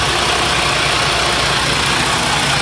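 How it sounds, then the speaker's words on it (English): Diesel engine of a Freightliner Cascadia truck with a DD-series engine, after an EGR cooler replacement, idling steadily and loudly up close, with a continuous low rumble and no pauses. "It's time to stop the engine and check for leaks."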